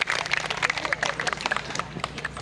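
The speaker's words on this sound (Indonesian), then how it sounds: "Mari kita semua sekali lagi kasih tepuk tangan untuk beri semangat kepada" An audience at a church contest of dance, foti and gong playing claps for the participants, a dense patter of many hands mixed with a voice talking over it.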